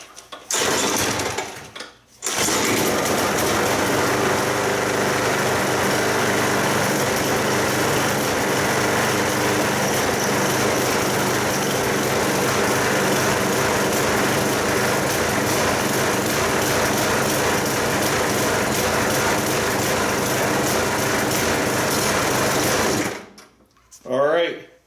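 A repaired walk-behind lawn mower engine with a cleaned carburetor catches after a few pulls and runs at a steady, close, high-pitched drone for about twenty seconds before cutting off.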